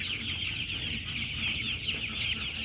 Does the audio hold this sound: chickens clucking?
yes